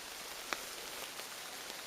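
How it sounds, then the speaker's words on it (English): Rain falls steadily on a coastal hiking trail in Pukaskwa National Park, a soft, faint, even hiss with a few sharper drops tapping close by, no voices. "gonna be walking in rain."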